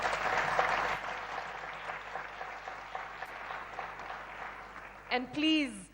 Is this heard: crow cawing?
no